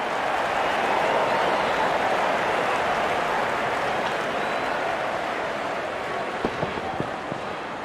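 Sustained applause from a large cricket crowd for a batsman's fifty, steady and full, thinning slightly toward the end with a few scattered claps.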